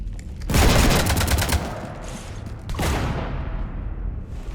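Rapid automatic gunfire in the video game Mass Effect 3 rakes a ship, a dense loud burst of shots followed by a second heavy volley and lingering rumbling debris.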